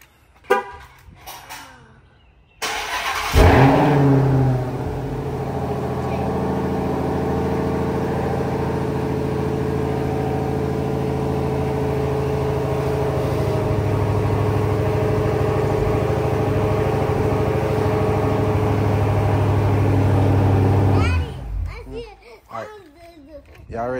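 A Dodge Hellcat car's engine runs with a loud, steady, deep rumble that holds for about twenty seconds, with children talking before and after it.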